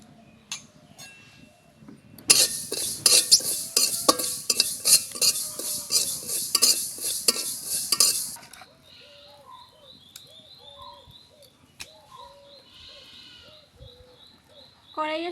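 Black sesame and nigella seeds being dry-roasted in a pan make a rhythmic scraping and rattling of seeds stirred against the metal for several seconds, then quieter stretches with birds cooing and calling in the background.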